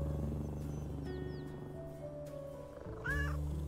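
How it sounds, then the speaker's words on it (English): Cat in the video game Little Kitty, Big City purring and meowing, soft game sounds with a short rising meow near the end over a low steady tone. "Oh, he's purring."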